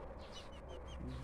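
Backyard chickens cluck softly in a brief, quiet burst, with faint bird calls and no talking.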